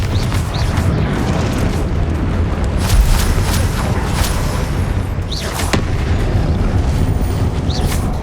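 Confringo fire spells exploding during combat in Hogwarts Legacy, a dense barrage of booming blasts and crackling bursts that follow one another continuously, loud and close, with several sharp impacts standing out above the rumble.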